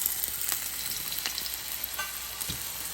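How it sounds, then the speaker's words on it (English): Potatoes and ajwain seeds frying in about a tablespoon of hot canola oil, a steady close sizzle with a few soft scrapes and crackles running throughout. "once it's hot, I'm going to add my potatoes and the ajwain seeds"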